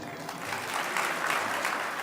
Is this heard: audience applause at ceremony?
yes